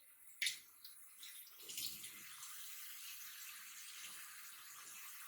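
Tap water runs steadily while a face is rinsed and makeup is washed off with a washcloth, a soft continuous hiss with a brief splash near the start.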